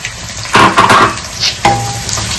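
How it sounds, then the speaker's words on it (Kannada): Sliced onions hit a hot pan for a prawn fry, giving bursts of sizzling and the clatter of stirring, with two louder pulses as pieces drop in and a fainter fry simmering between. "ನೀರುಳ್ಳಿ ಹಾಕ್ತಾ ಇದ್ದೇನೆ."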